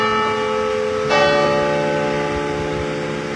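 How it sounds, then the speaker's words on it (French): Church bells ring out for the 8 May ceremony marking the 80th anniversary of the 1945 victory, a steady sustained peal with layered ringing tones that swells suddenly partway through and carries on without voices. "Les cloches de la liberté ont retenti, et elles viennent de le faire"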